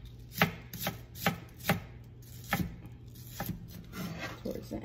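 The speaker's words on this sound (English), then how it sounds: "You're gonna go take your knife on an angle and cut thin slices out of it." A knife slicing an onion thinly at an angle on a cutting board, a rhythmic series of about nine crisp thuds with soft scraping between, close and clear over faint background hum.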